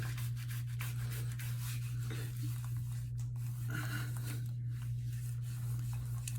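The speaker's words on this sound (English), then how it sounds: "You just want to rub it into the head a little bit so it gets into the hairs." Shaving cream is rubbed into the hair of a head before a head shave, a steady close wet rubbing and squishing texture that continues throughout over a constant low electrical hum.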